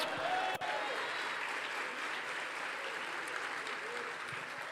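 Church congregation applauding during a sermon, a steady, faint wash of many hands clapping from across a large room, continuing without a break.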